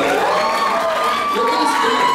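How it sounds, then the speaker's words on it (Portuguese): Crowd cheering and applauding at a Christmas cosplay parade, a dense, steady wash of claps and shouts held at full level for about two seconds, with scattered whoops and voices mixed in. "Uma salva de palmas aqui, por favor."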